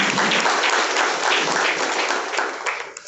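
Audience applause at a college presidential speech by a principal, a dense steady wash of many hands clapping from start to finish, fading slightly at the very end.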